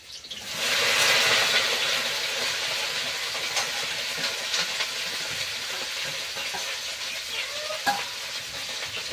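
Okra goes into hot oil with onion and hits it with a sudden loud sizzle, then fries in a steady hiss with occasional stirring scrapes, close and without talk.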